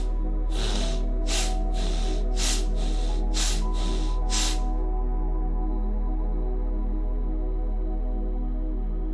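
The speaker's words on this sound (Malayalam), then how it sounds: "forceful exhalation" Seven sharp, forceful exhalations from a breathing exercise come in a quick, even rhythm, close and loud over a low steady hum, then stop and leave only the hum.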